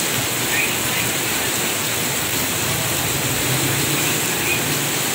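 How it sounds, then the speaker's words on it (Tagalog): Heavy rain pours down in a constant, dense roar, close and loud, without any talking. "Grabe naman to guys, sobrang lakas ng ulan."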